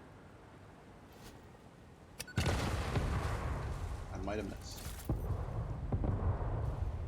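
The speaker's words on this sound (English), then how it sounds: "That was a lot of explosions." Explosions in the factory-building game Satisfactory: a sharp blast hits after a quiet start, followed by a rumbling roar and further bursts, with someone talking over it.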